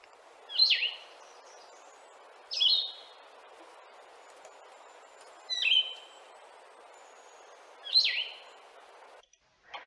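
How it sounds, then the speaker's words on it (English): Blue-headed vireo singing four short, sweet phrases separated by long pauses of about two seconds each, faint and somewhat distant over a soft background hiss. "And then the blue-headed Virio, the sadder, longer pause,"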